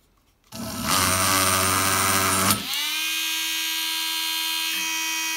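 A drill bit grinds into a traditional hookah, a loud rough whirring that abruptly shifts to a smoother high steady whine as the bit breaks, continuing to the end with no talk.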